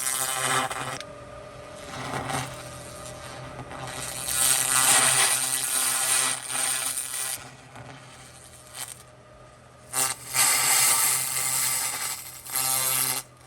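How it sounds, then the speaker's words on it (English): A laser cleaner buzzes harshly as rust blasts off a metal exhaust manifold from an MGB GT, the loud crackling hiss starting and stopping in bursts of several seconds. "the particles absorb it and basically explode off, making the buzzing noise you hear"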